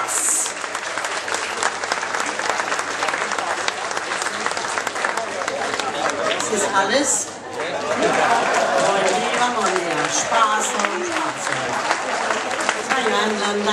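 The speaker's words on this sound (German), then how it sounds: "Bitte begrüßen Sie mit einem ganz, ganz herzlichen Applaus" A concert audience applauds loudly and steadily as a live performance begins, with a brief dip before the clapping swells again; a voice speaks briefly over it.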